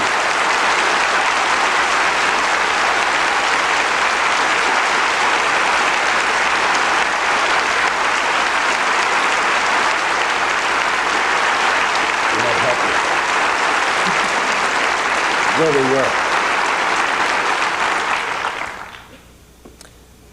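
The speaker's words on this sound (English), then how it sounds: "The long applause has made me forget the point I was on." Long, sustained applause from a forum audience, a steady wash of clapping that runs for most of the stretch before fading out, with a brief voice speaking near the end.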